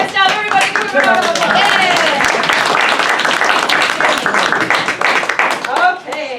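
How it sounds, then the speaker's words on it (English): An audience at a Metro Detroit improv fundraiser show claps and applauds loudly and steadily for several seconds, a dense burst of hands that thins slightly at the very end. "Give them a round of"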